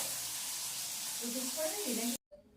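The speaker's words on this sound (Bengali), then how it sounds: "মাছটা ভাজছি" Rohu fish sizzles steadily in hot oil, a dense broadband crackle that runs loud and unbroken for about two seconds before cutting out abruptly, leaving only faint kitchen sounds.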